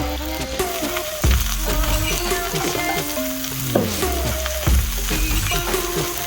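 Burger patties frying in a pan for a classic bacon cheeseburger, steady crackling sizzle running throughout, close and fairly loud, with occasional clanks and scrapes of utensils over the top.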